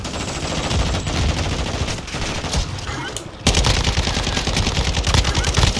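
Gunfire in the Call of Duty video game, dense rapid bursts of automatic fire that run loud and continuous throughout, growing heavier in the second half amid other game noise.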